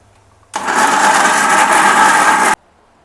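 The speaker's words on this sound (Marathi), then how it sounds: "now the Indian way of using a mixer" A mixer grinder whirs loudly for about two seconds, starting and stopping abruptly, with quiet room tone before and after.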